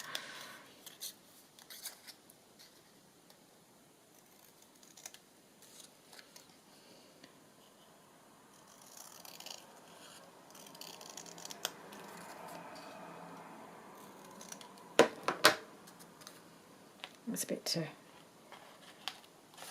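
Scissors snip along a red paper border on a Christmas journal page, soft cutting and paper rustling, faint and close, growing busier toward the end with a few sharper snips.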